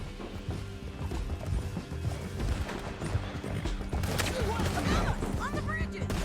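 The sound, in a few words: horse galloping in Red Dead Redemption 2 video game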